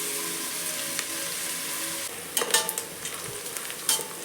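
Onions and four green chillies fry in a pan with a soft, even sizzle; after a couple of seconds, clattering stirs of a spoon join in at close range.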